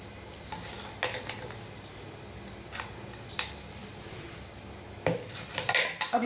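Eggs being beaten in a bowl for paratha, giving soft scattered clinks and taps of a utensil against the bowl, with a sharper knock near the end, fairly faint and with no talking.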